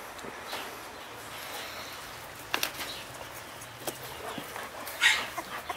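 Three-week-old puppies from a large-breed kennel make faint, scattered whimpers and small yips against a quiet room, with short louder cries near the end and no talking.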